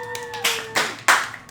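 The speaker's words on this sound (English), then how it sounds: "You may now applaud." Applause from a small in-person group at a tabletop role-playing session, three quick bursts of clapping that start sharply and fade, over faint tonal background sounds.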